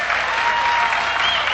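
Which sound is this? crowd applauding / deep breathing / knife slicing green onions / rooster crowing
crowd applauding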